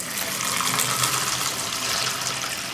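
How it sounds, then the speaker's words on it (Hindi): About a litre of water pours into a container holding a Samsung Galaxy F13 phone, a steady, close, splashing gush that runs unbroken throughout. "फ़ोन को यहाँ पे रखता हूँ और इसके अंदर पानी को डालता हूँ"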